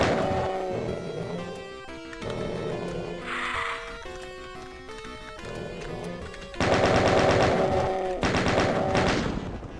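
Rapid machine-gun fire and gunshots from a first-person shooter, likely DOOM, with bursts recurring over a steady musical soundtrack and a heavier barrage near the end.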